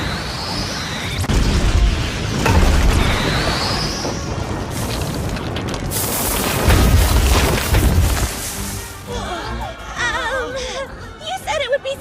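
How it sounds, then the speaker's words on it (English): An anime Fire Bullet magic spell erupts in a heavy booming explosion with a roaring rush that swells and fades, followed by scattered crackles and a character's whimpering voice near the end. "I call forth Fire Bullet."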